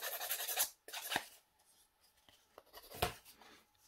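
Small files and cutters rasping and scraping on plastic model kit parts from a Tamiya 1/48 F-4B cockpit, in short close strokes with a sharp snip near the end.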